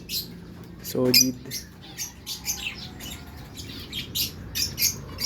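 Lovebirds chirp in short, sharp tweets scattered through a quiet space, moderately near, with a brief low voice speaking once among the calls.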